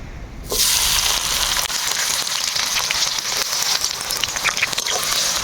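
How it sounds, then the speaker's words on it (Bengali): A sharp sizzle erupts after a short quiet moment and keeps crackling steadily as chopped onions fry in hot oil. "পেঁয়াজগুলো লাল লাল করে ভাজি নিব"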